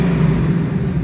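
A Ford Mustang GT500 fitted with an aftermarket exhaust kit idles or runs steadily, a loud, close, continuous low rumble with no pauses.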